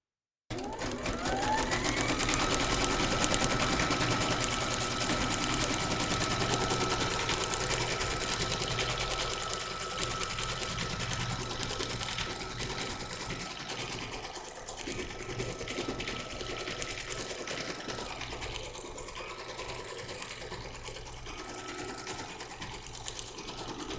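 An embroidery sewing machine stitches out a heart design on fabric held in a hoop, running with a steady, fast mechanical whir throughout, close and loud with no talking.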